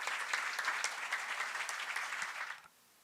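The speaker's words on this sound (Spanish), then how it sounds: "Con un fuerte aplauso presentamos a Cesario Silvestre" Audience at a book presentation event applauds the author, steady moderate clapping that stops abruptly near the end, leaving near silence.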